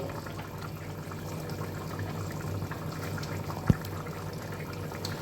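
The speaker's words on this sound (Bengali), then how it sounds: "এই দেখুন জল দেওয়ার পরে চিকেনটা সুন্দরভাবে আমার ফুটছে" Chicken simmers in a pot after water has been added, a soft, steady bubbling close by with a single sharp knock near the end.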